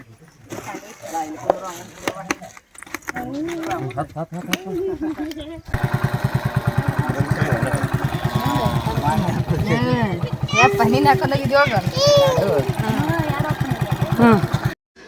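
A motorcycle engine runs steadily at close range for most of the stretch, a dense even throb beginning partway in, while people talk over it on a village trip.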